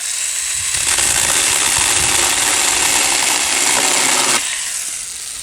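A cordless brushless power saw whines loudly at steady speed for a few seconds while cutting, then winds down and stops, leaving a low hum.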